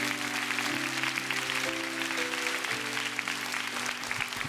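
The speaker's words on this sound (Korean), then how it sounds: "큰 박수로 축복해 주시면 좋겠습니다" Steady applause from a church congregation fills the sanctuary, dense and continuous throughout, with sustained tonal hum or organ-like notes underneath.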